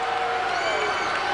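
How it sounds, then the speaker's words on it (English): A dense arena crowd at a WCW Saturday Night wrestling match roars and cheers continuously, a loud sustained wall of voices with no breaks. "the crowd reacting to something here on Saturday night"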